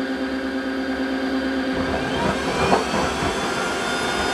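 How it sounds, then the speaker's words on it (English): A Tineco Floor One S3 cordless wet-dry vacuum running its self-cleaning cycle, washing its brush roller: a loud, steady motor whine with tonal hum that shifts and swells midway as water churns through, continuous throughout. "Start self-cleaning. And it is actually cleaning brush roller."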